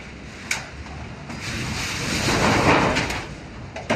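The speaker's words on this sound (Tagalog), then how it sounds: "Lakas ng hangin." Strong typhoon wind gusting against a house, heard from indoors near a window in a rainstorm, a broad continuous roar that swells in the middle, with occasional knocks and rattles.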